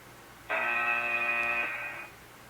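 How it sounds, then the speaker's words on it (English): A timer runs out in the Puyo Puyo Tetris video game, sounding as a single sustained electronic buzzer tone that lasts about one and a half seconds over quiet background. "there goes the timer"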